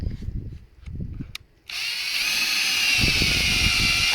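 Faint rustling and knocks give way to a loud, steady whine of a power drill running continuously, close by, as it bores into a log for mushroom inoculation.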